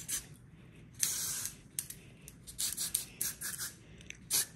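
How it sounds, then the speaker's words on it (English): Hair spray misted onto curled hair in short, close hissing bursts, several quick sprays in an uneven rhythm with brief pauses between. "Okay, so I'm about to spray some of this got to be. I'm just gonna lightly spray it."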